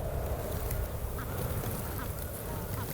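Snow geese call as they fly in during a spring hunt. A dense, continuous chorus of honking and quacking sounds moderately distant and steady throughout.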